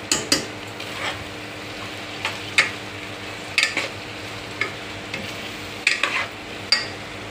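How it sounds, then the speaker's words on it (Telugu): Tomatoes fry in a pan under a soft continuous sizzle, with a spoon scraping and knocking against the pan in irregular stirring strokes about once a second. "ఇప్పుడు దీంట్లో టమాటాలు వేసుకోవాలి. టమాటాలు దీంట్లో టమాటాలు వేసిన."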